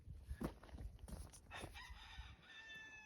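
Chickens cluck and a rooster crows faintly in the distance, scattered calls over quiet outdoor ambience.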